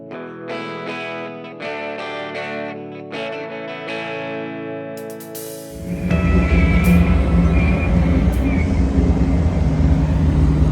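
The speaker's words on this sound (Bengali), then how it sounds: "তো আমাদের ট্রেন চলে এসছে সিমকেন টু তাসকেন্ট যাওয়ার জন্য" A passenger train from Almaty bound for Tashkent via Shymkent pulls into the station. A loud, broad rumble and rattle of rolling cars rise suddenly after several seconds of music and continue to the end.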